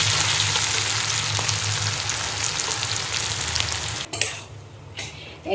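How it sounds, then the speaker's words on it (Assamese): Pork frying dry in a pan, a steady loud sizzle with stirring that runs for several seconds, briefly dropping away near the end, no voices. "গাহৰি মাংস ভাজিখিনি হৈ গ'ল এনেকৈ শুকানকৈ ভাজিছোঁ আজি"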